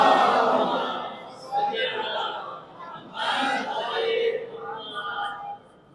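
A crowd at a mosque gathering in Bhiwandi chants salawat together, loud and close, the massed voices rising and falling in several waves across the clip.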